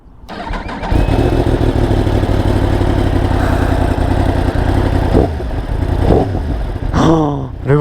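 A Yamaha R1 sport bike fires up for the first time: a brief starter crank, then the engine catches into a loud, rough idle with a few throttle blips near the end, close to the recorder.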